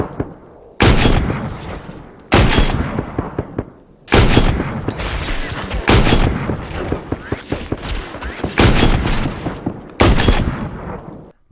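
Gunfire in the video game Ring of Elysium strikes a rail and a building: loud, close bursts of shots with sharp onsets and decaying echoes, repeated in several volleys.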